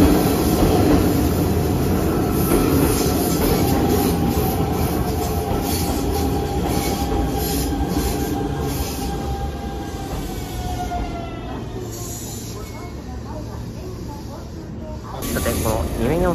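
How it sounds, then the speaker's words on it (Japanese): Hanshin Railway local train pulling into curved Mikage station, loud rumbling wheels and hissing brakes with squealing on the curve, slowing to a stop while a voice talks at times. "ちょうどやってきたのは阪神の電車がやってまいりました。"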